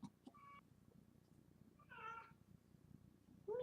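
A cat meows a few times, short mewing calls spaced apart, fairly close, over a low background hum.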